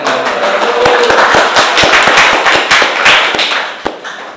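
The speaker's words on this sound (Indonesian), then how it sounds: "Oke, tepuk tangan." Sharp, separate claps from a small group in a classroom, loud and close, with a brief burst that thins into scattered, irregular hand slaps.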